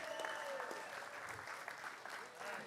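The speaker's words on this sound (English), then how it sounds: "Let's give him a round of applause." Steady applause from a crowd at a Star Citizen esports showcase, an even wash of clapping that holds throughout at moderate volume.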